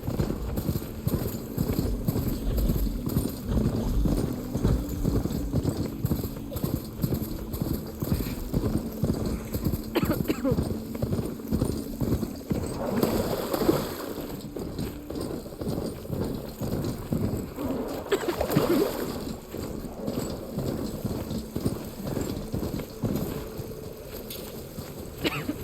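A mount's hooves clip-clop rhythmically at a steady trot in the video game Horizon Forbidden West, with close, fairly quiet hoofbeats continuing throughout against faint wind.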